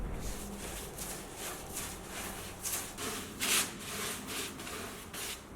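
A brush spreads polyurethane floor varnish over a wooden bed in rhythmic back-and-forth strokes, a soft rasping swish repeating roughly twice a second, close and quiet with no voices.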